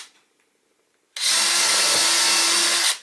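A power drill bores into scrap wood, starting abruptly after a quiet moment and holding a loud, steady whine with a gritty cutting rasp until the end.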